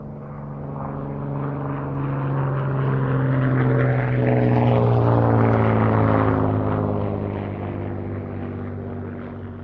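A restored vintage propeller aircraft flies at a VE Day air show, its engine drone swelling as it approaches, peaking loudly overhead, then fading away, steady and alone without voices.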